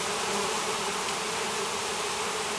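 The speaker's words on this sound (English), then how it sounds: "That's a lot of bees for a cutout." Dense, continuous buzzing of a large swarm of bees during a cutout from a retaining wall, close and loud, holding steady throughout with no other sounds.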